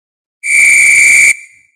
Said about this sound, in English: All right, whistle time.